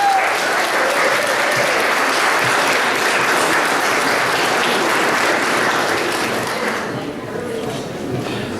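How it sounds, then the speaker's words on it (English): An audience at an amateur art exhibition applauds steadily for several seconds, a dense wash of clapping that softens toward the end. "So let's give a round of applause for those volunteers."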